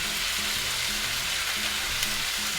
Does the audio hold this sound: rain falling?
no